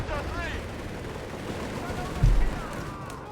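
Gunfire and tank combat in the Company of Heroes 3 strategy game, with Panthers and a Panzer III, as bursts of shots and a heavier thump come under continuous commentary.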